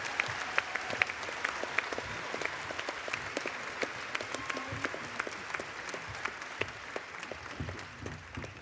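An audience claps steadily and warmly to welcome the Dalai Lama Scholars and Fellows onto the stage, a dense sustained round of applause filling the hall with no voices.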